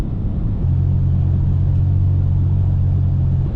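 Steady low engine and road rumble fill the cabin of a car driving on a plowed winter road in Alaska near the mountains, a constant close drone with no speech.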